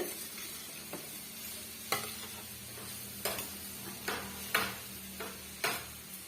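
Beetroot poriyal with grated coconut sautéing in a pan, a quiet continuous sizzle under slow, periodic scraping strokes of a spoon, about one every second, with no voices.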